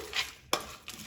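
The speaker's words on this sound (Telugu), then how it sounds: "తాలింపు వేసిన తర్వాత కలుపుకోవాలి" Gongura chutney stirred in a pan right after the tempering goes in, heard as a few short scraping strokes of a spoon over about a second, close and fairly quiet.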